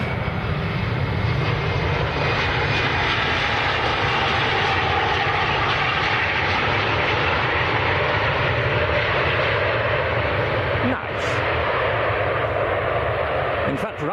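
Steady, continuous roar of taxiing airliners at Manchester Airport, with Emirates and Ryanair jets nearby, droning loudly throughout with a brief dip near the end.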